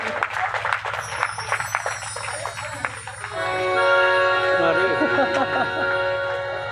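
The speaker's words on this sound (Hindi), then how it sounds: "सभी अग्रजों के लिए जोरदार तालियां हो जाए आपकी।" An audience at a religious stage event claps for a few seconds under an amplified voice talking. Music with a sustained tone then swells in, continuing over a low hum.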